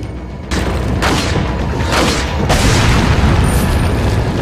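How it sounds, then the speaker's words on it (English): A flash grenade going off in Resident Evil 4 amid a fight with parasite-infected enemies, several loud booming bursts in quick succession over a roaring backdrop. "I'm just gonna use the last flash grenade"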